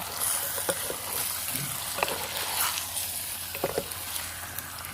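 Chicken stir-fried in a pan gives a steady, moderate sizzle with occasional scrapes and clinks of stirring, close up and without talk.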